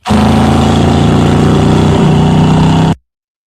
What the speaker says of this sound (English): What kind of car is this? A Caprice?